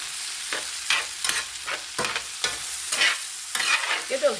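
Breakfast cooks in a big iron pan with a quiet bed of sizzle, punctuated by repeated scraping strokes of a utensil against the metal at an uneven rhythm, close and clear without speech.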